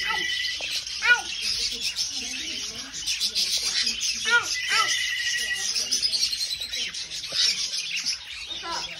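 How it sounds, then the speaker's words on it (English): Many small birds chirp and tweet continuously inside a bird store, close and fairly loud, with scattered high calls; people talk intermittently over the chatter. "Oh, you see the birdies?"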